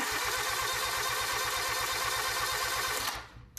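Vehicle engine cranked over by the starter during a starter solenoid test, a fast even chugging rhythm for about three seconds that stops abruptly, leaving near silence.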